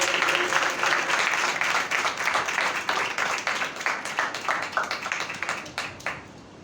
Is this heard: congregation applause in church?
yes